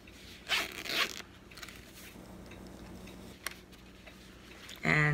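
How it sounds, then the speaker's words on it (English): A zipper on a travel jewelry case is pulled in a few short rasping strokes, close and crisp, with quiet pauses and soft handling sounds between them. "It's got a zipper"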